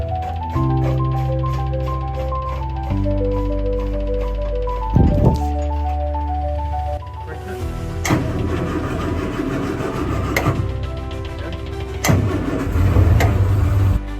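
A race car engine that has sat for four months cranks with a steady electric whir, catches with a sudden bark, then settles into a loud, close idle. Sharp blips of revving follow, with stretches of rattly mechanical noise.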